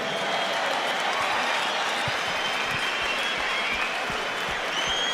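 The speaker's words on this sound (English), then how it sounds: "another round of applause for these two warriors" Dense, sustained applause from a large boxing crowd, loud and continuous, with individual claps blending into a steady roar throughout.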